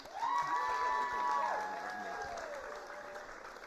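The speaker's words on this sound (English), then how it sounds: "you should give yourselves a big round of applause." An audience applauds at a Strictly Come Surrey 2023 dance event, a steady, moderately distant clapping that fades slightly, with a voice speaking over it.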